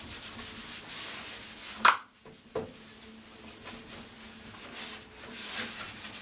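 A cooker is scrubbed clean by hand with a steady, raspy rubbing sound and faint scratchy strokes, plus a sharp clatter partway through, close by and moderately quiet.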